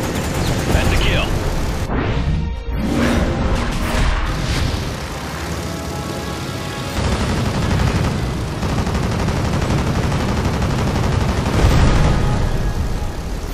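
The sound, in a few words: aircraft machine gun fire in the video game Blazing Angels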